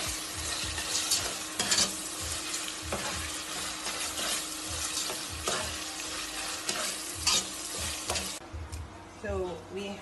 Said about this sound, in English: I'll keep stirring.